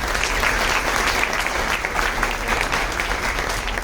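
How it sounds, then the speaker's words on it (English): Steady, dense audience applause at a foundation day celebration, a continuous even wash of many hands clapping with no pauses. "I think all of us must give him one round of applause."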